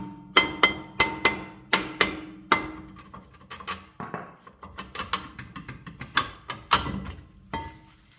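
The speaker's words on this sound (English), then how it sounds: "Or you can use the bigger hammer." A hammer strikes the rear brake rotor of a 2015-or-later Toyota 4Runner to knock it loose, a series of sharp metallic clangs in an uneven rhythm, close and loud, with rattling in between and no speech.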